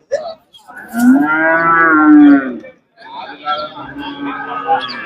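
Cattle at the Puliyampatti cattle market give a long, loud, close moo followed by a second, rougher lowing call, with the hum of the market and voices behind them.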